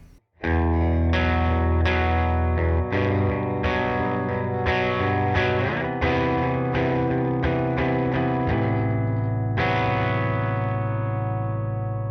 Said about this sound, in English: That gives you an interesting sound on the bridge humbucker.